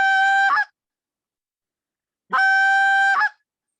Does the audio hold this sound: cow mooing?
no